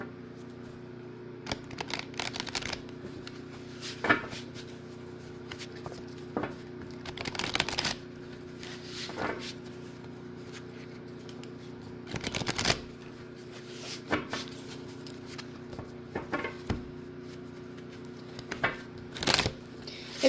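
Tarot cards being shuffled for a reading, with soft riffling bursts and taps repeating irregularly against a quiet steady hum, close and fairly faint.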